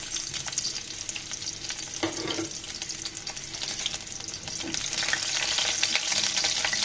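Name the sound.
garlic frying in oil for red amaranth greens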